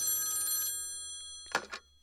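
A telephone bell rings once, then goes quiet, followed by two brief clicks or partial rings, heard close in an otherwise still room.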